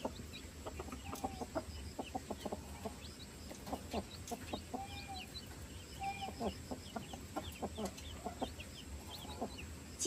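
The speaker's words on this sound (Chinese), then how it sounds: "给点吃的看看它会不会叫小鸡吃。" A mother hen clucks in repeated low, rhythmic calls, summoning her brood of a dozen-odd chicks to food, while the chicks' thin high peeps scatter around her, close and fairly quiet.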